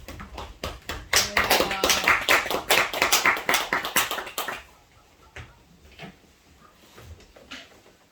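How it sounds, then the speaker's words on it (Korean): Church congregation at a Sunday worship service applauds to welcome the pastor, a loud burst of many hands clapping that swells for about four seconds, then dies away to a few scattered claps and room noise. "우리 박수로 환영해 주시기 바랍니다"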